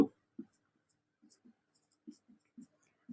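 A pen scratches out an equation by hand on paper in short, separate strokes, faint and close, with long quiet gaps between the bursts.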